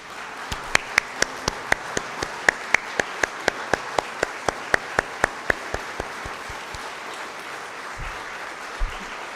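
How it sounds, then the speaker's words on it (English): Sharp, evenly spaced claps ring out in a church worship service as the congregation applauds volunteers, a steady rhythmic series of loud single claps that thins out and stops, followed by faint low thumps. "give everyone a round of applause"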